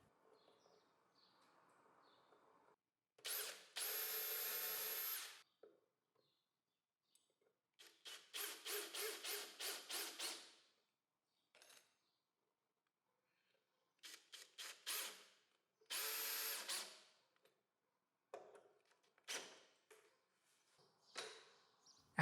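A power drill drives screws to fit the brackets of a folding side table on a table saw sliding carriage, with several short bursts of whirring separated by quiet gaps.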